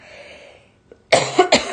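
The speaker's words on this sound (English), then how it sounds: "Excuse my cough, guys." A single close, sharp cough comes in two quick bursts after a brief quiet, in an indoor live beading class.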